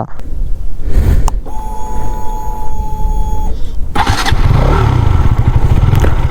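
A KTM Duke 200 motorcycle engine cranks with a whirring starter, then catches and settles into a loud, close, steady idle.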